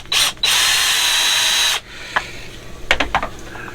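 Power drill driving screws out of a new RV's panel, two loud continuous whirring bursts up front, then quieter clicks and clatter as the screws come free.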